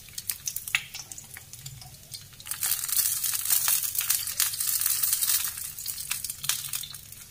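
Food browning in a hot pan, sizzling and crackling steadily with scraping and stirring noises that grow fuller in the middle and then ease off, close up and with no talk.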